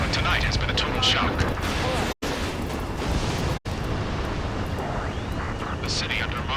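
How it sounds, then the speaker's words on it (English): Gunfire and roaring jets over a city under martial law in the Ace Combat 7 video game, a dense continuous rumble with bursts, heard alongside a voice speaking. "Gunfire and the roar of jets echoing through the streets."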